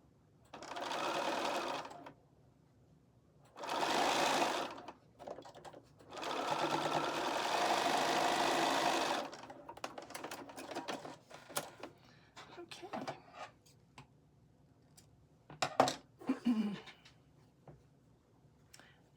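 Sewing machine stitching a charm pack quilt block, starting from the center, in three loud whirring bursts that start and stop, followed by quieter handling clicks and rustles of fabric.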